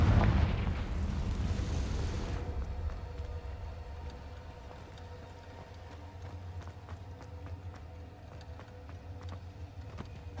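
A Confringo spell explosion in the Hogwarts Legacy video game bursts loud and broad at the start, then fades into a low rumbling tail with scattered crackles over several seconds.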